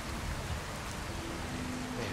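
Steady rain pours in the video game Skyrim, a dense, even hiss of falling water that fills the clip without pause and sounds close and moderately loud.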